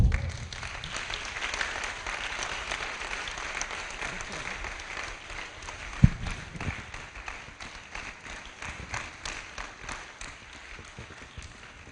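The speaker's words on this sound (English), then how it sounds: "Continue clapping." Audience at a literary initiative award event clapping steadily as students and a teacher come forward, a sustained crowd applause with one sharp thump midway, slowly fading and thinning toward the end.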